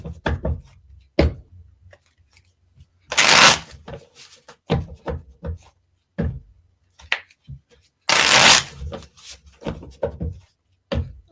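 Haunted house playing cards being shuffled in two loud bursts, each lasting under a second, with quieter handling taps and clicks of the deck in between; no one speaks.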